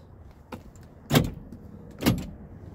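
Power window motor of a 1986 Chevy C10 Silverado pickup, two short whirring bursts about a second apart with a faint click just before, close and moderately loud in a quiet cab.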